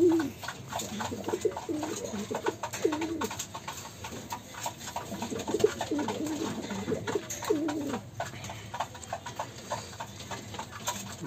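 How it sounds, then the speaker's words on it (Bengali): Pigeons coo repeatedly, close and moderately loud, from a small Mordda blood male and a Teddy and Rampuri cross female. Their rounded, rhythmic calls carry over a steady rustling background with no voices. "নটটা ডাকেও খুব সুন্দর মাশাআল্লাহ।"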